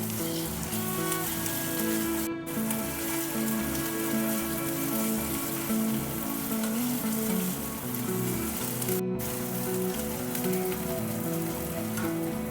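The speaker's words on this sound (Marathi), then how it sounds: "गॅसची फ्लेम मीडियम ठेवून आपला कांदा छान तेलामध्ये फ्राय करून घ्यायचा" Chopped onion frying in oil with crushed ginger, garlic, curry leaves and coriander stems for a moong dal usal, a steady close sizzle with a faint low hum underneath and no talking.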